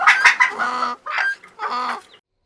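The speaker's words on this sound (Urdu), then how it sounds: "گدھے کی زور زور کی آواز سے مرغیاں بھی ڈر کر شور مچانے لگیں۔" Chickens frightened by a braying donkey cluck and squawk in quick agitated bursts, loud and close, then fall silent.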